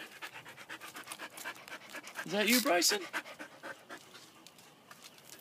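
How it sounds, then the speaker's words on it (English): A dog pants quickly and rhythmically close by, with a person's voice breaking in briefly partway through. "Oh, that's a doggy."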